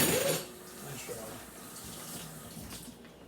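Water runs from a kitchen tap as potatoes are washed in the sink, a steady splashing hiss with a louder burst at the start, low and moderately quiet.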